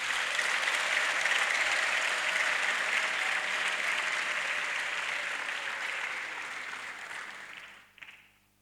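Sustained applause from a church congregation at a Rwandan ADEPR prayer service, steady and dense throughout before fading out at the very end.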